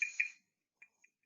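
A frog gives a high tinkling call: two bright metallic notes close together, then two fainter short tinkles after a pause, thin and clear against silence.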